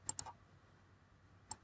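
A few quiet computer mouse clicks: a quick double click, then a single click after a pause, in an otherwise near-silent room.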